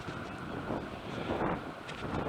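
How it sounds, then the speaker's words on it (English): Wind blows outdoors on a mild, dry day beside a Royal Enfield Electra X motorcycle, a steady close rush of gusts buffeting the microphone with no other clear sounds. "It's a bit windy today"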